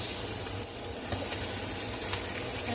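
Onions sizzle and fry in a hot steak pan for onion-smothered steak, a continuous close crackling hiss with faint stirring clicks and a low hum beneath.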